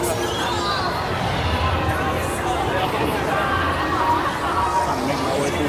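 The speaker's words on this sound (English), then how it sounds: "I'm making my way through the crowd." Dense crowd chatter filling a busy exhibition hall at Tokyo Game Show 2016, a constant loud wash of overlapping voices and footsteps close around the listener.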